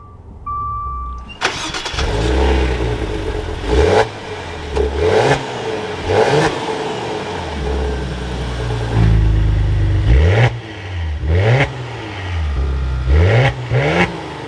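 Maserati Levante GranSport starts up after a brief chime, settles into a loud idle and then gives a series of sharp revs rising and falling several times close by.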